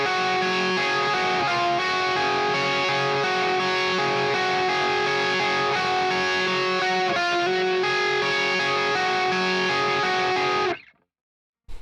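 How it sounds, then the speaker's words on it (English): A second electric guitar picks clean, high single notes over a dense, effects-laden chorus part, the layered tones ringing continuously before cutting off abruptly near the end. "the second guitar is playing some like higher note, just kind of like clean picked notes over top of that"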